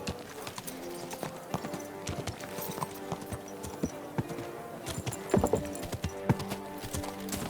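Horse hooves clip-clop steadily in Kingdom Come: Deliverance 2, close and continuous, with a brief whinny partway through and game music and ambience underneath.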